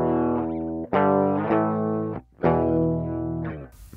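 An electric guitar plays its raw, unprocessed tone through a very cheap budget rig. Four sustained chords ring out one after another, close and loud, with no voices.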